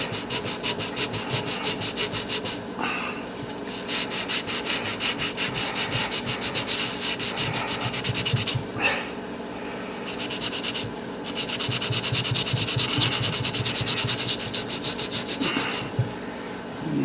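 A fossil needle fish is scrubbed hard with a sponge, making loud, close, rapid rasping strokes in long continuous bursts with a few short breaks.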